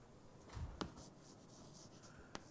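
Chalk scrapes and taps on a board as a topology lecturer writes out a lemma, a few short strokes and sharp knocks spaced apart in a quiet room.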